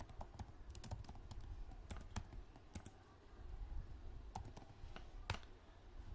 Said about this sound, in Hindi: अब मैं यहाँ पर टाइप करता हूँ